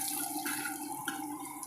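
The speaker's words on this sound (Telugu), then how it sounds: "సాంబార్ అంతా ఇలా మరుగుతుంది" Sambar simmers in a pot on the stove with soft, irregular bubbling and gurgling, quiet and close, with small pops scattered throughout.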